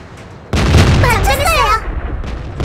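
WZ-132 light tank main gun firing in World of Tanks, a single loud, close blast with a long rumbling tail, followed by faint background hum.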